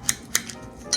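A knife slices a peeled pineapple into pieces, giving a few crisp, close clicks at uneven intervals, each quick and bright, with quiet gaps between them.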